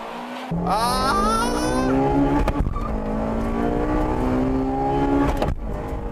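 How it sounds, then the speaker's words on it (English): Honda Integra Type R engine racing against a 2-liter turbocharged 220 horsepower Nissan Silvia, loud steady high revving with rising engine tones and a brief upshift dip midway, sustained and close with no talk. "Here's about against a 2-liter turbocharged 220 horsepower Silvia."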